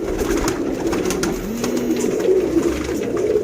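Golden male pigeons coo in a low, steady rolling murmur, a rising-falling coo standing out midway over constant background hum, close and fairly loud with no talking.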